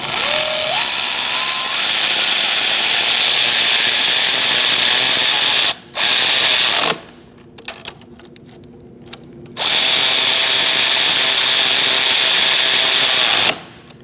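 A power tool drives bracket bolts on the intake manifold of a 2008-2014 Mercedes-Benz C300 3.0L V6, with loud, close whirring bursts separated by brief stops and a quieter gap of small mechanical clicks.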